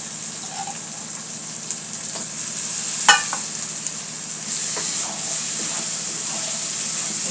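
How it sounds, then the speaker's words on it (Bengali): About 300 g of small-cut meat pieces drop into a hot pan for pasta, setting off a steady, close sizzling hiss, with a brief sharp clatter near the middle as the pieces land. "এখন মাংসগুলো আমি দিয়ে ফেলবো"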